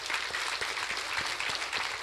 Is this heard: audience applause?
yes